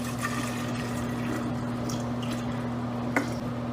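Liquid poured into the bottom of a mead-making bucket to dissolve sugar and honey gives a steady, close, wet gurgling flow with a low hum under it and one sharp knock near the end, with no voices.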